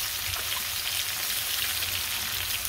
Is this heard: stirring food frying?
yes